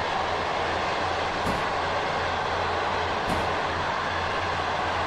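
Train wagons rolling past in the MaSzyna rail simulator: a steady broadband rumble of wheels on track, with two sharp clacks of rail joints spaced a couple of seconds apart, continuous and fairly close, with no talking.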